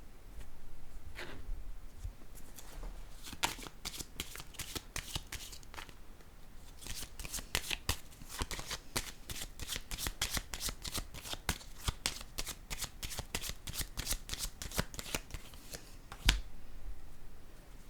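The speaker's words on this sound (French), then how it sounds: "Je vais déposer une carte sur la justice maintenant." Tarot cards are shuffled and laid down near the microphone, a long run of quick crisp riffling snaps and flicks with occasional single slaps of a card on a surface.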